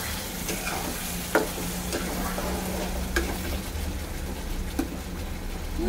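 Potatoes tipped into spice paste frying in oil in a wok, a steady close sizzle with stirring and a few sharp scrapes and clinks of a spoon against the pan, no voices.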